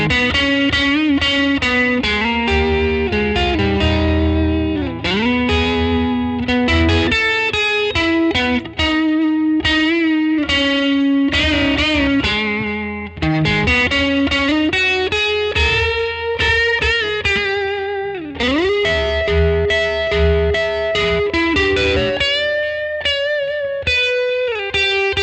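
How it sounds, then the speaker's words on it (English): A Fender Parallel Universe Jaguar Strat electric guitar plays dirty, distorted lines through a Pugilist distortion into a Mirror Image delay, continuous and loud with bends and chords, with no talking. "I'm going to show you some dirty tones, and I'm going through our pugilist distortion right into the mirror image delay"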